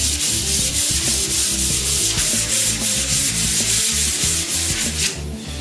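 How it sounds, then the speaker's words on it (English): Fine 320 grit sandpaper rubs lightly across polyurethane-finished wood in quick, steady back-and-forth strokes. The scratchy sound is close and fairly loud, with no talking, and eases off briefly at the very end. "take some sanding paper. This is 320 grit, and just lightly,"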